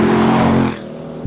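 A 2022 Ford Mustang GT V8 roars loudly as the automatic gearbox kicks down, a strong harmonic engine note for under a second that then eases to a lower, quieter drone.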